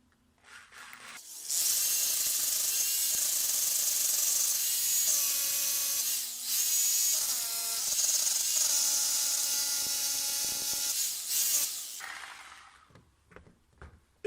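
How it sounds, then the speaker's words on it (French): Power drill bores into the stone of an old barn under renovation, a bright, sustained high-pitched grinding whir with small pitch shifts, starting and stopping after about ten seconds. "Donc vous avez vu à la vitesse on a percé dans de la pierre"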